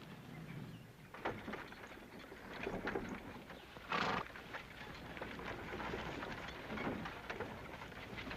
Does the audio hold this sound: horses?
yes